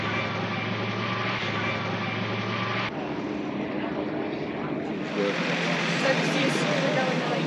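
A steady, loud engine of a P-38 Lightning propeller aircraft drones nearby at Oshkosh, its tone shifting partway through, with voices faintly mixed in.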